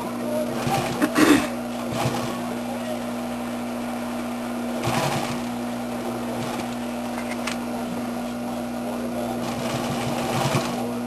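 A sewing machine stitches the waistline of denim jeans, with a steady mechanical whir and hum running throughout, broken by a few louder bursts and knocks, close by.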